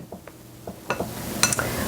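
A spoon clinks and scrapes around a bowl while stirring thick flourless chocolate cookie batter, with scattered light taps building to brighter ringing knocks near the end.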